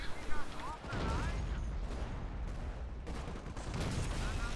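Rapid gunfire crackles and booms in a World War II strategy video game, a dense, loud volley of overlapping shots. A voice is briefly heard near the start.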